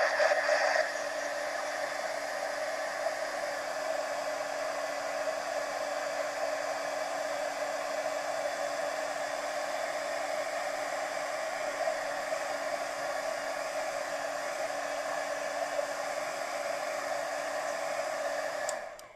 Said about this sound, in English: So let me just blow dry that a little bit.